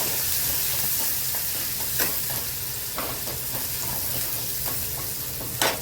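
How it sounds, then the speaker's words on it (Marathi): Spice masala for brinjal bharta sizzles steadily in hot oil in a pan, with a constant crackling hiss and occasional scrapes of a spoon stirring close by. "तेलावरती चांगलं परतून घेऊया।"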